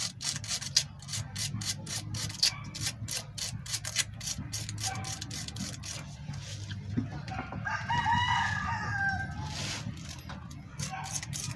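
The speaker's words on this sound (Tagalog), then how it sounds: "Kuha tayo ng liha mga boss, lilihain natin tong" Sandpaper rubbing the metal pin of a car distributor rotor in a mechanic's workshop, a rapid run of scratchy rasping strokes, then a brief noisy scrape with a rooster crowing faintly in the background.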